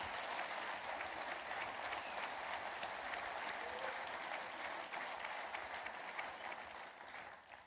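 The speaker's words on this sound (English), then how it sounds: "that much applause before you speak is dangerous" Sustained applause from a lecture audience at Hillsdale College greets a speaker before a speech, a dense, steady wash of many hands clapping that stays even and loud before tapering slightly at the end.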